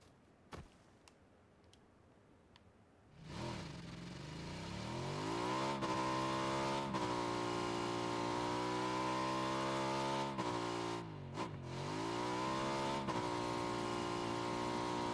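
A motorcycle engine in PUBG on Xbox idles, then revs up with rising and falling pitch, holding a loud steady drone with a brief dip and rev partway through.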